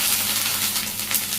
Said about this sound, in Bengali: এখানে কাঁচা লঙ্কা আর জিরে একসাথে বাটলাম, সেটা দিয়ে দিলাম। মশলাটা ভালোভাবে কষিয়ে নিই।